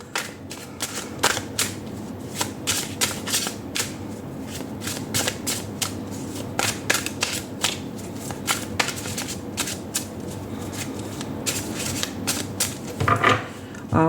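Tarot cards are shuffled and drawn by hand, close up. Rapid riffling slaps and flicks repeat in a steady, busy rhythm, with a brief rustling flurry near the end.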